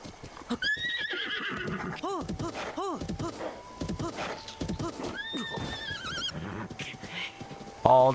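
A horse in a video game whinnies several times with rising, wavering calls, mixed with steady clip-clopping hooves and other game effects, all close and loud throughout.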